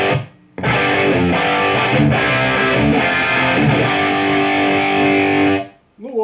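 Electric guitar played through an amplifier's lead channel with reverb switched off, a loud, distorted, sustained melodic line of bent and held notes that stops abruptly at the end.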